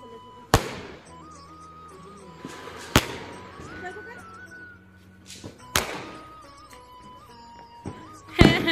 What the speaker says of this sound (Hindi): पटाखे फोड़ने चलो, पटाखे फोड़ने चलो।